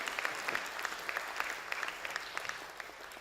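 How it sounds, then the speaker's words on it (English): Audience applause for Nick at an education symposium talk, a moderate, fairly soft round of clapping from a room of people with distinct individual claps poking through the steady patter. "Round of applause for Nick, please"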